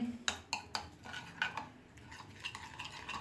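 Crushed chili, salt and spices being mixed together in a bowl for dum fried chicken: a faint series of sharp spoon-on-bowl clinks and scrapes in an irregular rhythm, with no talking.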